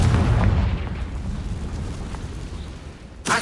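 A Confringo fire spell explodes in Hogwarts Legacy, giving a loud booming burst that fades into a rumbling tail, with a second sharp blast at the very end.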